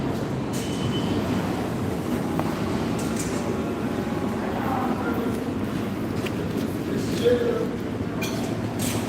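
A New York City subway train is heard from inside. Its steady, close rumble and rattling run throughout, with faint squeaks and clicks above the roar.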